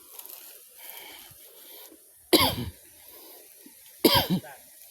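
Two sharp, harsh coughs from one person during an outdoor land survey, loud and close, separated by about two seconds with quiet murmuring background between.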